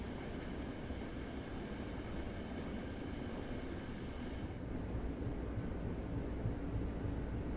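Long Island Rail Road train running in Train Sim World 4, a steady rumbling roll with low mechanical drone and faint rail clatter, continuous and moderately loud throughout with no voices.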